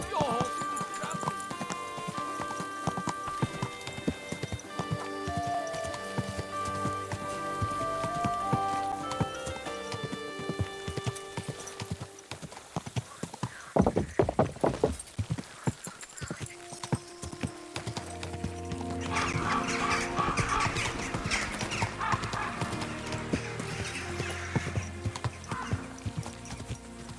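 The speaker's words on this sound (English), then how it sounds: "Don't you know how to keep your horse under control?" Horse hooves clip-clop steadily in Kingdom Come: Deliverance 2, a horse neighs, and music plays throughout, with voices talking at times.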